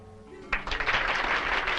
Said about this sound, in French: Elles sont toutes très belles, on les applaudit toutes